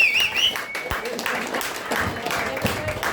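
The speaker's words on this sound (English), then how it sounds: "Can we have a round of applause for Dan Dali, everybody?" A live audience applauds a comedy performer at the close of a set, a steady patter of clapping with voices and a whistle-like tone mixed in near the start.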